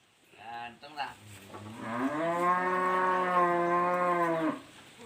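A red Brahman cow lets out a long, deep moo close by, preceded by a couple of shorter grunting calls.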